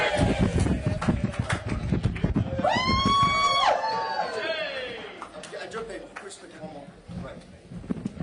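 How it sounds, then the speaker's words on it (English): A party crowd at a Reform UK event gathered with a politician, breaking into a loud cheer and shouts after a counted one-two-three, with chatter and voices around it before the noise fades. "Give us a 1, 2, 3 cheer."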